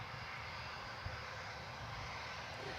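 An airplane flies and banks near Gold Coast Airport, its engine a steady, distant drone held at an even level throughout.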